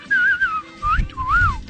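A person whistles a wolf whistle: clear, piercing rising and falling tones in two or three quick phrases, close and loud, with no talk.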